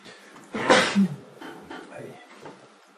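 A sneeze bursts out once, loud and close, during a spiritual talk session, followed by quieter breathy sounds and murmuring in the room.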